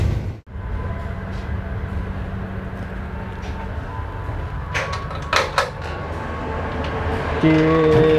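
Inside the KA Joglosemarkerto passenger train arriving at Kutoarjo station, a continuous low rumble of the carriage in motion runs throughout, with a few brief clanks and knocks late on as it slows.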